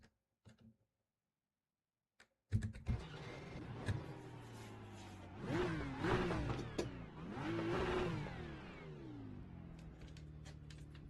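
A BMW GT3 race car engine in the iRacing game fires up after a few clicks, then revs and climbs through the gears in rising, falling sweeps, loud and close.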